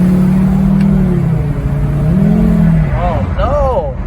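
A Volvo V70R wagon's engine rises and falls under added throttle, a steady loud drone with pitch sweeps, with voices talking over it near the end.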